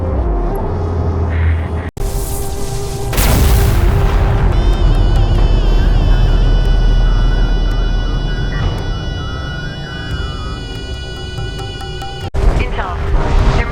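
An orbital weapon fires in the Homeworld space strategy game: a sustained loud roaring blast with ringing tonal layers, holding for around ten seconds before cutting off abruptly, with a low rumble beneath.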